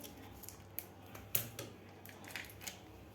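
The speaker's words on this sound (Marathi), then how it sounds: "त्यामध्ये आपल्याला हे दूध बॅग फोडून घ्यायचे आहे" Quiet snips of scissors cutting open a plastic milk bag, a few small crisp clicks close by with soft rustling between.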